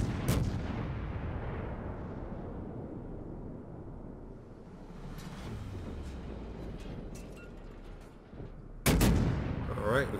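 Naval gunfire in World of Warships aimed at the Dresden: a sharp broadband shot at the start, a low rumbling wash in between, then a loud burst of cannon fire near the end, with no talking.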